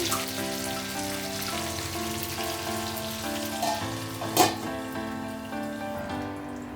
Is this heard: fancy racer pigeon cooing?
no